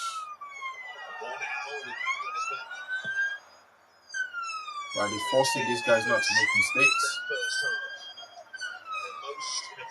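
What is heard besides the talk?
ambulance or police car siren outside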